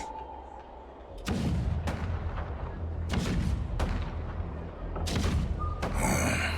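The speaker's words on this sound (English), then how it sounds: "The rumble of the cannons." Heavy booming cannon blasts in the video game Honkai: Star Rail fire repeatedly, each a broad thunderous burst with a rumbling tail, coming every second or so over a constant low battle din.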